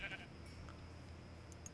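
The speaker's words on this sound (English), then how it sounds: "I'm just killing some sheep right now." Sheep bleat in Minecraft during a UHC match as they are being killed, one short, faint bleat at the start, then steady low game ambience with a couple of faint ticks.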